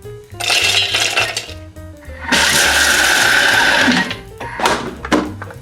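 A small electric chopper whirs in loud bursts, the blades rattling and grinding through hard cashews and pistachios, chopping them coarsely, with brief pauses between pulses.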